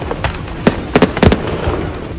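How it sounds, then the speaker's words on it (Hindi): Fireworks stacked in a burning truck burst in a rapid, irregular string of loud cracks and pops, several close together, with a steady crackle underneath. "इतने पटाखे फटे कि अच्छा भला ट्रक किसी चिता की तरह जलता दिखा।"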